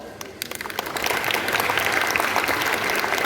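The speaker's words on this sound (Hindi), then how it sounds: "अब अपील है कि हाथ उठे, गर ताली को तो ठोक दो ताली" An audience at a comedy show during an Urdu book fair breaks into applause, with a few scattered claps swelling quickly into dense, loud, sustained clapping from a large crowd.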